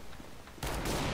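A single loud shot from an R8 revolver in Counter-Strike: Global Offensive, a sudden blast that cuts in halfway through and sustains to the end after a quiet lead-in.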